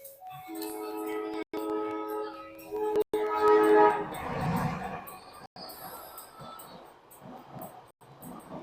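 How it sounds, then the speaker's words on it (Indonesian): Train rolling past on the railway beside a roadside barbershop, loud and close with a horn blast and rumbling wheels on the rails, then fading into lingering street noise. "Rekamannya nanti campur aduk sama suara kereta ini."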